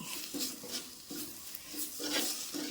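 Tomatoes and masala being sautéed in a pan over high flame for a fish curry, a gentle sizzle with rhythmic stirring scrapes and soft pan knocks repeating every half second or so, close and quiet.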